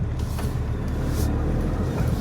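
An Ineos Grenadier Quartermaster truck grinding slowly into a dirt wall off-road, a continuous low engine rumble with faint creaks and mechanical strain, no talking.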